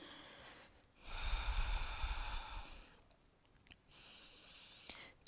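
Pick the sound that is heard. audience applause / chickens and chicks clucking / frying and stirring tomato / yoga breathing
yoga breathing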